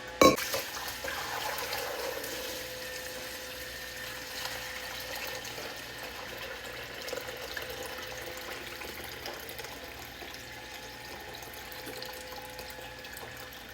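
Finished homemade stock poured through a colander into a big bowl, beginning with a sharp knock and then a soft continuous trickle and splash of liquid that stays quiet and even, with no talking.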